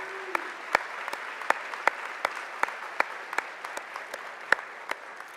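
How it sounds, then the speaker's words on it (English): Scattered audience clapping at a spring undergraduate commencement ceremony, individual sharp claps from a fairly sparse crowd ringing out at irregular intervals in a reverberant hall. "Sure, clap now."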